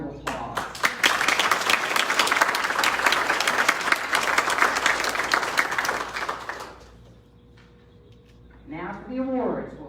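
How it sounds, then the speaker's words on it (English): An audience at an annual meeting applauds its leaders with dense, loud clapping for about seven seconds, which then fades out, and a voice begins speaking afterward. "So please give our leaders a round of applause."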